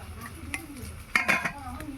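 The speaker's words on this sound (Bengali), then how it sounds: "এবার ভালো করে মাখিয়ে নেব" A spoon scraping and clinking in a bowl as beaten eggs are mixed into soybean chunks, with a few sharp clinks and soft wet stirring, close up, and some background sounds.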